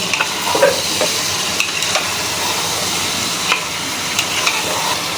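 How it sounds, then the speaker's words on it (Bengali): Lotpoti curry stirred and fried in a pan, a steady sizzle with scattered scraping clicks from the spoon, close and moderately loud, with no voices. "তখন এটাকে সুন্দর করে নেড়ে আগে কষাবো"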